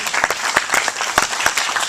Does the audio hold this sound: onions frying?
no